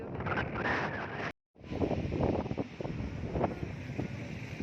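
Strong wind gusts across a mountain area near Naran in the Kaghan valley, roaring and buffeting the microphone closely, briefly cut off before resuming just as loud.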